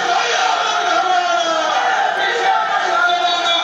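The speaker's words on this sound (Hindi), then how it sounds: "साफ तौर पर मुर्दाबाद के नारे लग रहे हैं, भारतीय जनता पार्टी मुर्दाबाद के नारे।" A large protest crowd in Bihar chants anti-BJP murdabad slogans in a continuous, dense roar of many voices, loud and steady throughout.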